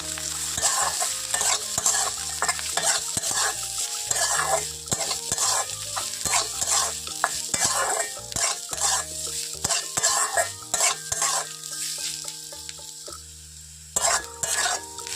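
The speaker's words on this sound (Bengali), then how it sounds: "নারকেলটাও লাল লাল করে ভেজে নেবো একটু" Grated coconut sizzles in hot oil with fried onions in a village kitchen pan, a spatula scraping and stirring in quick repeated strokes over a constant frying hiss.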